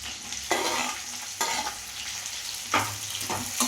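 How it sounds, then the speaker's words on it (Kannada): Onion and capsicum frying in a pan for spicy paneer fry, with steady sizzling and several loud scraping stirs at intervals, close by and without talk. "ಆನಿಯನ್ ಏನು ಕಟ್ ಮಾಡಿ ಇಟ್ಕೊಂಡಿದ್ದೀವಿ ಅದನ್ನು ಸ್ವಲ್ಪ ಫ್ರೈ ಮಾಡ್ಕೊಳ್ತೀನಿ"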